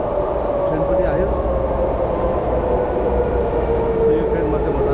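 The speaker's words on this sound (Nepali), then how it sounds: "यसरी ओके ट्रेन पनि आयो।" A clean Singapore metro train pulls into the station, a continuous loud rumble with a steady tonal whine gliding slowly downward as it arrives, heard up close without talk.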